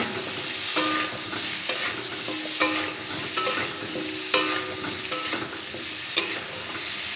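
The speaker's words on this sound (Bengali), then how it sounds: "এবার নেড়ে চেড়ে লবণ আর হলুদ গুঁড়ো ফুলকপির সঙ্গে মিশিয়ে নেব" Cauliflower being stirred in a hot pan with salt and turmeric, a steady sizzle of frying broken by repeated scraping strokes of a spoon against the pan, close and fairly loud, no voices.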